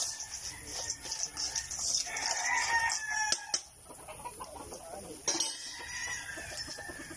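Chickens, including fighting cocks kept for derby, cluck steadily at feeding time while a rooster crows partway through, the farmyard sounds moderately loud and continuous.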